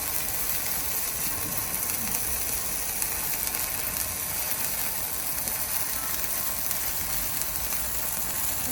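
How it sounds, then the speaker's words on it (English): Handheld welder in operation, producing a continuous harsh crackling sizzle with steady broadband hiss and faint tonal hum, unbroken and even in level throughout. "Now let's try the welding here."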